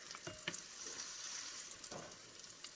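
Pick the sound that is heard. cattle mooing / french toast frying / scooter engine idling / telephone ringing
french toast frying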